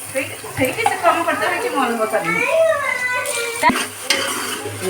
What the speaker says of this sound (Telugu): దీంట్లో మసాలా కూడా వేసాను అనమాట చక్కగా ఇలా గోల్డెన్ బ్రౌన్ కలర్ వచ్చేలాగా ఫ్రై అవ్వాలి